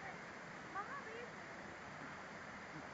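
Waterfall pouring off rock at Mawsynram, Meghalaya, a faint, steady distant roar of falling water with a brief soft voice-like sound partway through.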